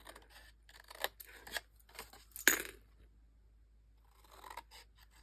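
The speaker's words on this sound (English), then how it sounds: "I'm going to cut at an angle and take off a little triangle, and I'm going to do that on all 4 corners" Scissors snip triangles off the corners of paper for a stationery folio: a series of crisp, close cuts with short pauses between them, one louder snip near the middle, and no talking.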